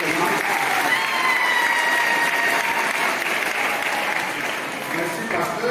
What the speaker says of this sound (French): Ça mérite qu'on acclame.